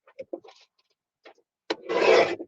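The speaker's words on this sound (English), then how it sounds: "Let's cut those the same." A blade cuts through paper strips being trimmed to matching size for a journal, a short run of small snips and scrapes followed by one longer rough cutting stroke, close and fairly quiet.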